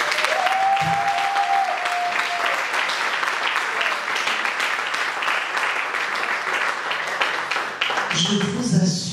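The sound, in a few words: audience applauding at a panel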